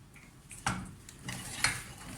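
A spoon stirs and scrapes thick choux pastry panade in a pan over low heat, two distinct clinks against the metal over a faint, quiet background scraping.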